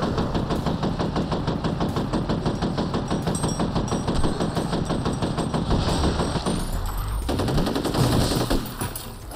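Rapid automatic gunfire rattles continuously in the first-person shooter F.E.A.R. as ghostly enemies are shot, a loud, dense burst sequence that cuts off near the end, leaving a low rumble.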